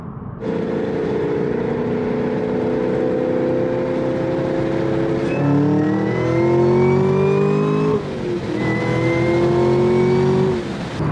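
A Chevrolet Camaro ZL1 1LE with an AWE Tuning exhaust revs loudly and close up, its deep engine note climbing in three sustained pulls separated by brief drops, with no talking.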